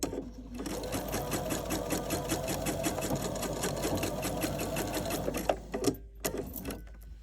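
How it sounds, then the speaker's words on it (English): A sewing machine backstitches a seam on a welder's cap, running in a steady, fast whirring chatter for about five seconds before stopping, followed by a few soft clicks and handling sounds. "Make sure that you backstitch at the beginning and the end of this seam."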